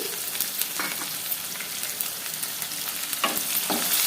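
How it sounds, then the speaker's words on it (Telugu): Chopped onion pieces frying in oil in a pan while cooking potato curry, a steady close sizzle with a few brief stirring scrapes, no voices. "ఇప్పుడు ఈ ఉల్లిపాయను కూడా ఆయిల్లో ఫ్రై చేసుకోవాలి"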